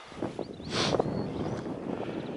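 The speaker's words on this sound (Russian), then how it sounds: "Сегодня ветер помешал. Он и сейчас сильный." Strong wind buffets the microphone in a steady low rumble, with faint whistling tones drifting above it, outdoors during a spring goose hunt in Belarus.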